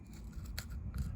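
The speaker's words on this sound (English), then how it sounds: "when you cut it off the sprue, it leaves a little bit of flashing" A single crisp snip as a plastic part is cut from the sprue of a 1/25 scale Infini-T Ford Model T Hemi Dragster model kit, close and brief over a low room rumble.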